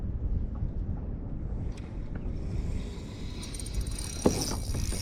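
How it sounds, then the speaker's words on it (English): Steady outdoor wind at a lake roars and buffets the microphone with a constant low rumble, loud and close, with a faint click or knock near the end and no talking. "I'm getting blown by the wind"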